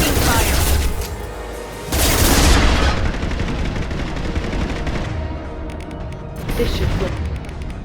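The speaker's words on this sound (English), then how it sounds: "Taking fire!" Dense video-game gunfire from Mass Effect 2 Legendary Edition surges in bursts over mechanical clatter and booms, loud and busy throughout, with character voices talking under the combat.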